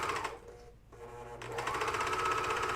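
A Juki MCS-1500 coverstitch machine stitches two layers of fabric with a steady, fast mechanical chatter, pausing briefly before resuming at a constant rhythm, close and fairly quiet.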